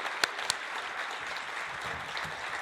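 Audience at a public libraries seminar applauding the author Mempo Giardinelli as he takes the stage; a soft, even wash of clapping with a couple of sharper claps near the start.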